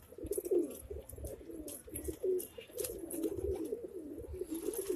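High-flying pigeons at a loft cooing in a continuous murmuring chorus of soft, overlapping low coos, close and steady, with occasional faint higher chirps and no talking.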